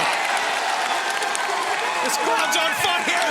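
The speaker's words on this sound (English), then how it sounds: "This crowd's on fire." Wrestling arena crowd roaring and cheering steadily, a dense continuous wall of noise with scattered louder shouts and whistles, an announcer's voice faintly mixed in.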